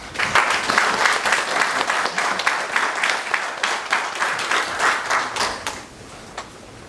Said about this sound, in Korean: 박수로 전민환 총장님 맞이해 주시면 감사하겠습니다.